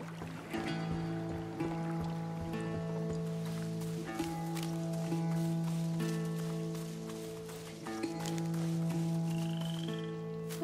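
A frog croaks repeatedly in the A Plague Tale: Innocence video game, with low rhythmic calls over a sustained tonal drone and a watery ambience.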